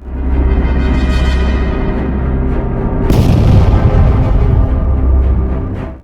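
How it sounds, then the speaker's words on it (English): A BMP-2 infantry fighting vehicle, hit by a grenade dropped from a drone, goes up in a loud, sustained roar, with a second heavier blast swelling midway as its fuel and ammunition detonate. "The ensuing explosion caused significant damage, igniting a massive secondary blast as onboard fuel and ammunition detonated."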